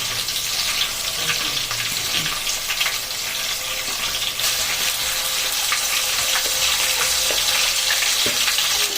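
Mutton frying in a pan with ginger paste, a continuous bright sizzle with crackling pops and occasional stirring scrapes, close and steady for the whole stretch.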